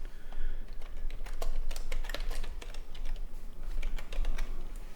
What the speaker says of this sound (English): I will just type in